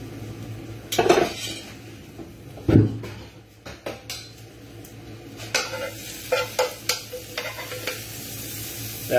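Gravy being stirred into a pan of sautéed lamb's liver and bacon, with a soft simmering sizzle under repeated scrapes and clinks of a utensil against the pan, no one talking.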